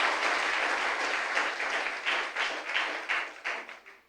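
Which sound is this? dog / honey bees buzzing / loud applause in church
loud applause in church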